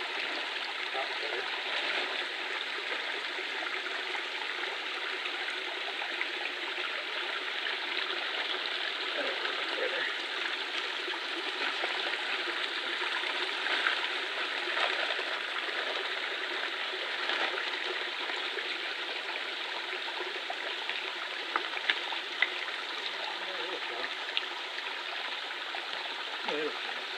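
A river stream rushes steadily over rocks, a broad, constant hiss of flowing water with faint splashes, unbroken for the whole stretch.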